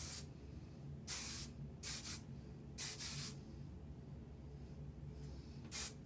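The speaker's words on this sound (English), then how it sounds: "And I'm going to spray all of it so it gets" Hairspray is misted onto hair while styling a curly side updo: about five short, soft hissing spurts at uneven intervals over quiet room tone.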